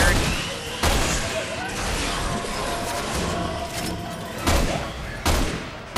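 Bursts of gunfire and impacts from Resident Evil 6 gameplay, loud and repeated with several sharp shots amid a busy game soundscape, while people talk over the action.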